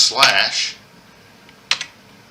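A computer keyboard shortcut, Control plus slash, gives a couple of quick, crisp keystroke clicks close by, just after a brief burst of sound at the start.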